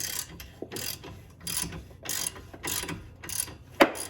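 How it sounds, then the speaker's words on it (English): Ratchet wrench loosening a bolt on a coilover of a third-generation Mitsubishi Eclipse, close and fairly loud, in about seven rhythmic bursts of rapid clicking with short pauses, ending on a sharper metallic clack. "we're going to start by getting this bolt back here"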